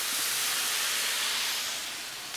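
Loud, continuous hissing sizzle of ground meat and onions cooking on a Blackstone griddle, steady throughout with a slight fade near the end.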